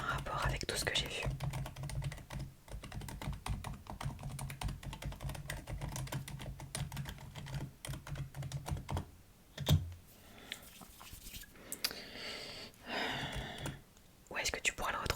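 Typing on a keyboard while writing a report, heard as steady soft close-up key taps in a quiet room, with whispered speech running over them.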